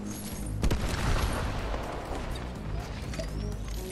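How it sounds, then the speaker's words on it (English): Explosions and gunfire in a battle royale video game, a dense barrage of booms and crackling bursts with one sharp blast near the start, steady and fairly distant throughout. "I hear explosions, but I don't see who it's coming from"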